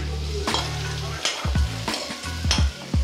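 Coarsely chopped onion hitting hot oil with garlic and ginger for Korean tteokbokki, a steady loud sizzle with stirring clatter and bursts of frying, no voices.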